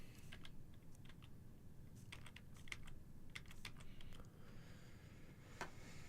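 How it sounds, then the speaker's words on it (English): A computer keyboard being typed on in quick, uneven bursts of soft clicks, close and fairly quiet over a steady low background hum, with no talking. "ADHD typing is go."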